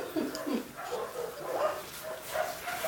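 Dog barking in several short, mid-pitched bursts spread across a few seconds, fairly close and moderately loud, with no talking over it.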